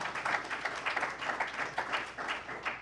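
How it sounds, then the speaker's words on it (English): Conference attendees give a round of applause, many hands clapping in a steady, fairly quiet patter that lasts throughout with no speech on top. "Let's get a round of applause, please."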